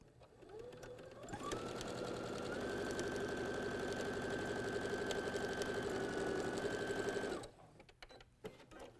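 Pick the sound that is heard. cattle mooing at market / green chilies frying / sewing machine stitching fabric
sewing machine stitching fabric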